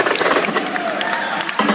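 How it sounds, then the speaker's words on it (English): Crowd noise at a breakdance battle, a dense wash of cheering and clapping with voices mixed in, loud and sustained, swelling again near the end. "can I get some noise from the crowd?"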